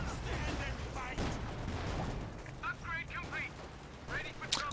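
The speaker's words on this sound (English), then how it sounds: "indirect fire for the allies in the form of the 75mm pack howitzer" Artillery fire from a 75mm pack howitzer on a Company of Heroes 2 battlefield, heavy booms and crackling battle noise mixed under continuous commentary.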